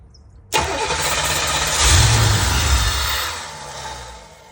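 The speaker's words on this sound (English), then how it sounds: "So we're gonna do the starter fluid trick. And I just want to hear it fire up one time." Chevrolet C4 Corvette engine cranked on starter fluid, starting abruptly with a loud roar that swells briefly, then settles into a rough running note that fades slightly, close and alone.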